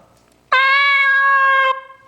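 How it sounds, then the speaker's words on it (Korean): A cat gives a single loud, drawn-out meow lasting just over a second, close and clear against a quiet background. "고양이 안 보여도 이 소리가 딱 나면 뭐가 있어요? 고양이가 있다는 증거예요."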